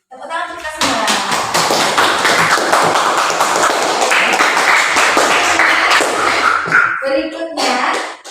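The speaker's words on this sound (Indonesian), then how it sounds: "Tepuk tangan kita semua" A classroom of students claps together for about seven seconds, a loud, dense burst of applause that starts abruptly and fades out, with voices just before and after.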